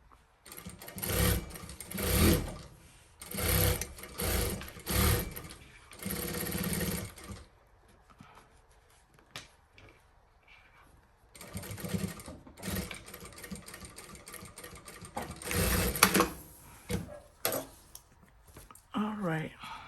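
A sewing machine stitches fabric in a Dollar Tree sewing hack project, running in several loud bursts of rapid whirring separated by short pauses, with quieter stretches between stitching runs.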